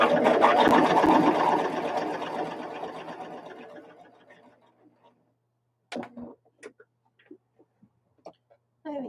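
A sewing machine stitches quilt pieces for a jelly roll project in a loud, fast, continuous whir that slows and fades out over about four seconds. A few short, sharp handling clicks follow in the quiet.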